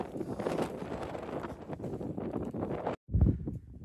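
Wind gusting across an open hillside in the Lake District, a steady broadband rush buffeting the microphone, briefly cutting out before a strong gust returns.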